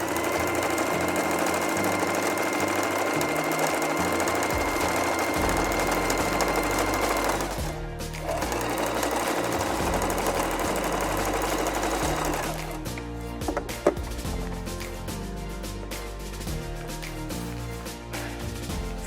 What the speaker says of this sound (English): we're going to sew the bias binding strap onto the pocket, the edge of the top of the pocket